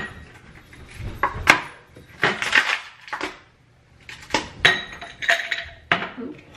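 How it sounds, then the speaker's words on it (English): Ice cubes going into a glass for an iced matcha latte: a series of irregular clinks and clatters in several bursts, close and fairly crisp, with no talking. "I'm going to put in ice cubes."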